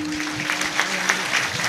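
An audience claps together at a comic kirtan, with dense, steady hand claps filling the hall and a faint hum underneath.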